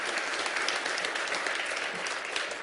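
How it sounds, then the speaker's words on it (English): Steady applause from an audience at a university funding announcement, even and moderately loud throughout the short stretch with no voices over it. "Let's give her a round of applause"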